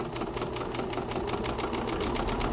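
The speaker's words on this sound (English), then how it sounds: "Okay, I've sewn all the way down here. I'm gonna sew right off the end." A sewing machine stitches along a tote bag strap seam, running steadily up close with a fast, even mechanical chatter that keeps a constant loudness throughout, and no voices are heard.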